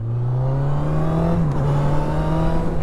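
A Honda CB1000R Black Edition motorcycle accelerates hard, its engine note rising steadily in pitch with a brief dip mid-run as it shifts, then climbing again, loud and close.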